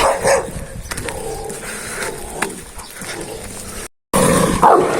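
A small street dog barks in a few sharp yaps against a busy outdoor background, with a brief dropout near the end.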